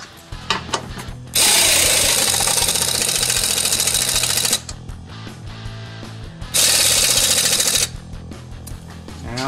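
A hand ratchet tightens two 15 mm control arm bolts on a Chevrolet HHR, giving two loud bursts of rapid clicking separated by quieter metallic handling and clinks.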